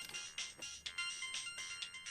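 A mobile phone ringtone plays in a home, with repeated electronic bursts and a steady rhythmic pattern, fairly close and alone without talk.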